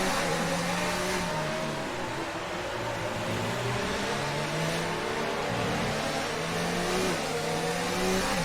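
F1 car engines screaming in F1 2019 at the Russian Grand Prix, a continuous high revving roar with rising and falling pitch as the cars accelerate and shift, loud and steady throughout.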